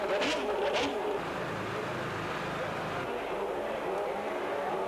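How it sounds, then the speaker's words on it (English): Formula 1 cars of the 1992 season roll up to their grid positions, engines droning and whining in a steady blur of motor noise, with a voice talking over the engines. "One by one, the cars came up to their grid positions."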